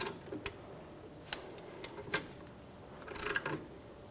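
A seized through bolt on a 2010-2014 Subaru Outback rear upper control arm is worked back and forth, giving a few faint, sparse metallic clicks and a brief cluster of taps over a quiet background.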